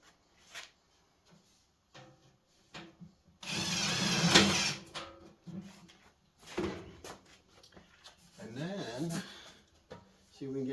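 A power drill drives self-drilling screws into metal wood stove pipe during installation, with one strong whirring burst and a few shorter bits of tool noise, separated by quiet gaps and someone talking.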